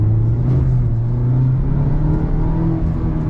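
A 2017 Mazda MX5 Miata ND engine holds a loud, steady droning hum in the cabin, a continuous low rumble with a slight rise in pitch rather than sharp blips.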